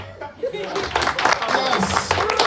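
Audience at a spoken word poetry show clapping together, a dense burst of handclaps rising quickly and staying loud, mixed with some cheering and voices.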